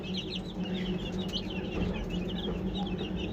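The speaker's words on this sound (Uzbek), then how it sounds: "Mana bu qora jo'jalar boyagi avstralorlarning" Black Australorp chicks cheep in a brooder, a busy scatter of thin high peeps repeating throughout over a soft background hum, fairly close and quiet.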